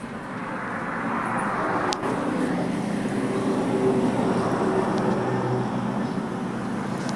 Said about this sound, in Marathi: इतक्या गाड्यांचा आवाज येतोय